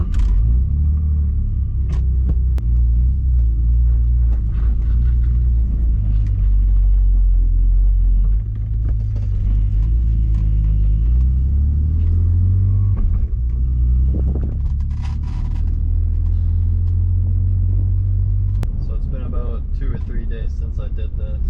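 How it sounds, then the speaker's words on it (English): A BMW E46 drift car with a short shifter fitted, heard from inside as a loud continuous engine drone and road rumble with gear changes. Someone talks over it. "Let's go for a drive."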